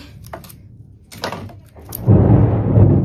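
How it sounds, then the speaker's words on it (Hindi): A deep, broad rumble of thunder swells in the second half and rolls on loudly, preceded by a few scattered knocks and faint background noises. "बादल गरजत है आप मन सुनाई देत हो ही खतरा टाइप के"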